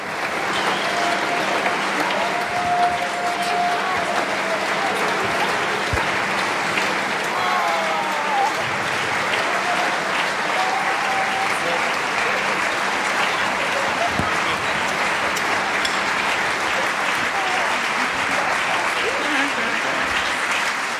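Applause from an audience at the closing ceremony of the re:publica 2018 conference, a dense continuous wash of clapping from a large crowd sustained for about twenty seconds, with a faint voice now and then underneath.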